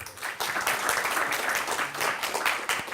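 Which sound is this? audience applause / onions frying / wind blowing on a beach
audience applause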